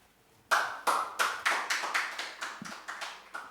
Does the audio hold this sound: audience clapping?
yes